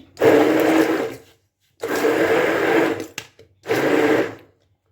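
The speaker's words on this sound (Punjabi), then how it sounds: "ਹੁਣ ਅਸੀਂ ਦੁਬਾਰਾ ਤੋਂ ਇਹਨੂੰ ਬਲੈਂਡ ਕਰਾਂਗੇ" A kitchen blender whirring through mango lassi with added sugar, running in three short loud bursts with brief silent pauses between them, close and alone.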